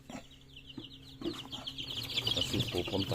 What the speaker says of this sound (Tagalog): Kasi pupuntahan ng mga manok na nakawala.